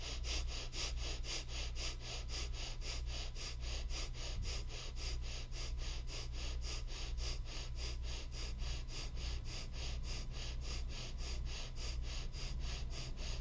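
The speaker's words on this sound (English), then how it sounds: "we're going to do breath of fire or a bellows breath." Breath of fire, a bellows breathing exercise: rapid, rhythmic, forceful nasal exhalations repeating evenly and continuously at close range, with no talking.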